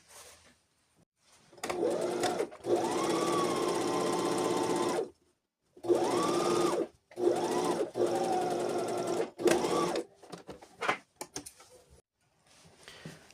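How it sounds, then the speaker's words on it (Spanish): Sewing machine stitching the pocket facing of a pair of trousers with diagonal pockets, running in several bursts of a few seconds each with short pauses between runs, close and steady, and no talking. "vamos a empezar cosiendo la hojalera"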